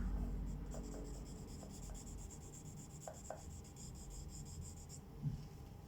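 A pen scratches and rubs continuously across paper while drawing a dog, producing a soft, close, steady scribbling with faint rhythmic strokes and no talking.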